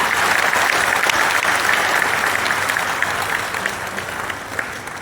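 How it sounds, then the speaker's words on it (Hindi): A large crowd applauds at a public inauguration ceremony in Saharanpur, dense sustained clapping that stays loud and even before slowly easing toward the end, with no voices over it. "एक बार जोरदार तालियों के साथ।"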